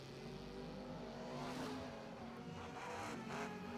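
At a drag race, a motorbike takes on a Camaro, and the engines roar with a steady, loud rumble that swells slightly as they rev and move off. The sound is heard alone, with no talk.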